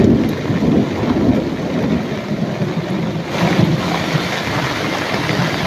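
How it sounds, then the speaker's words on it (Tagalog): Heavy rain and wind roar continuously during a typhoon rainstorm, with low rumbling thunder swelling beneath the dense downpour, loud and close throughout. "Lakas ng kidlat at kulog."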